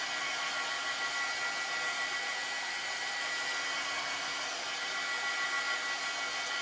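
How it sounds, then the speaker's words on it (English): A hair dryer blows steadily and loudly to dry chalk paste on a craft piece, a constant close whooshing hiss with no talking. "So we'll just hit it with the dryer."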